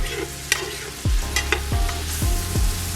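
Mushrooms cooking down in a hot pan for a creamy tuna casserole, sizzling steadily while a spoon stirs with several dull knocks and scrapes against the pan.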